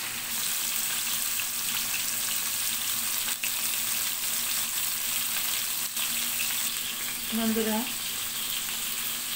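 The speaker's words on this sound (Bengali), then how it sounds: "আমি মাছটা প্রথমে লবণ হলুদ মেখে তেলের উপর ভালো করে ভেজে নিব।" Salt-and-turmeric-rubbed fish frying in hot oil, a loud, steady close sizzle running throughout, with a brief spoken word and a short clatter near the end.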